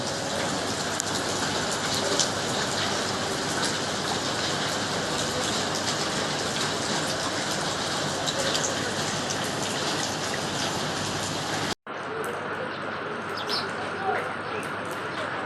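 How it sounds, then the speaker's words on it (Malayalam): Steady morning rain pours down without letup on the Kondotty bypass road in Kerala, a dense continuous hiss; it breaks off for an instant near the end, then resumes slightly thinner with scattered drips. "മഴ പെയ്തുകൊണ്ടേ ഇരിക്കുന്നുണ്ട് നിന്നിട്ടില്ല"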